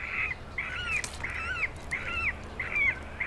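Cormorants in a small nesting colony in trees at Lake Sempach, Switzerland, give rough repeated calls at a steady rhythm of about two per second over broad outdoor noise.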